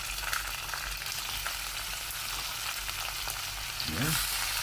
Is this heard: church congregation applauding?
no